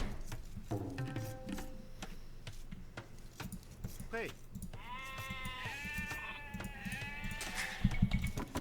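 In Age of Empires 2, game sheep let out a few bleats, the longest run coming in the second half, over light game sounds and scattered clicks.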